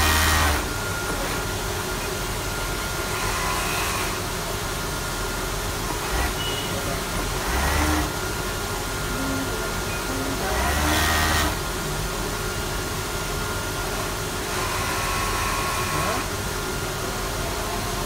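Industrial sewing machines stitch leggings on a factory floor in Surat, India, producing a continuous mechanical whir with periodic louder bursts of stitching, while someone talks over the machine noise.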